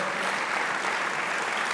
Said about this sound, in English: let's have one final round of applause for tonight's inductees